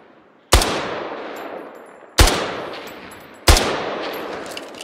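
Three separate heavy gunshots from a weapon in the video game Squad, each a sharp loud crack followed by a long decaying echo tail, spaced roughly a second and a half apart.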